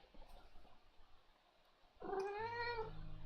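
A female house cat gives one drawn-out, wavering meow up close after a quiet stretch of faint room noise.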